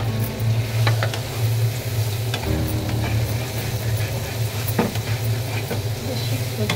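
Chopped onion and green chili hit a hot frying pan, giving a continuous close sizzle over a low steady hum, with a few brief clatters from the pan.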